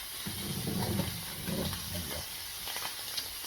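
Butter melting onto a steak fresh and hot from the heat, giving off a steady, close sizzling hiss with soft crackles throughout and no talking.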